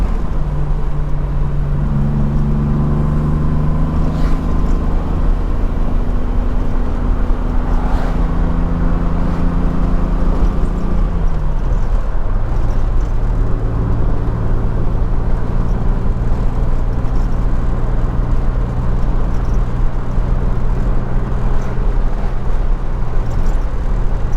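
A 1961 Mercedes-Benz 220Sb W111 cruises along a scenic country road with a steady engine drone and road roar from inside the car, and the engine note shifts as it changes gear partway through.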